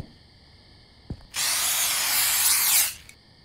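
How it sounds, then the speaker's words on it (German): A spray can hisses in the horror video game The Convenience Store, a brief thump followed by one steady, loud blast of spray lasting about a second and a half over a faint electrical hum. "Ich sprühe sie einfach ein."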